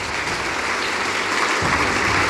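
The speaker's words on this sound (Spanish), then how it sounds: "Dale un aplauso al Señor." A church congregation applauds during a Spanish-language worship service, a steady, dense wash of clapping that fills the space for a couple of seconds without interruption.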